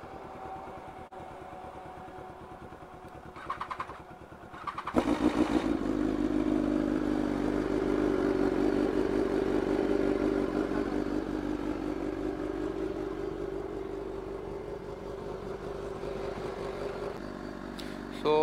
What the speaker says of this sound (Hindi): इधर पे अभी कोल्ड स्टार्ट किए हैं सब बाइक